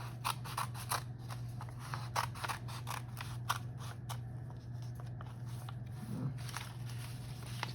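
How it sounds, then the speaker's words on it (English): Scissors snip through paper along straight lines during a fine-motor practice exercise, a quiet run of quick, regular crisp cuts over a steady low hum, close and without talk. "note I have to move my hand as I cut"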